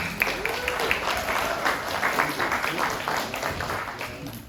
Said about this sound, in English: Could you give them a round of applause, please?